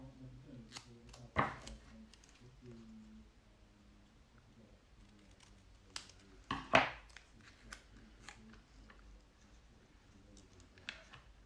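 Scissors cutting card at close range, a few crisp separate snips spread across a quiet stretch, along with soft handling noises and a faint voice in the background.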